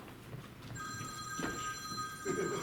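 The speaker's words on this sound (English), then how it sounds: "Who didn't turn their cell phone off?" A cell phone rings with a steady electronic trill through a murmuring theatre audience, the tone sustained and fairly close over low background chatter.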